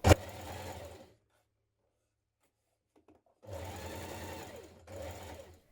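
A sewing machine stitches the seams of a dress in two close, steady bursts of rapid needle hum separated by a pause, with a sharp clunk at the start.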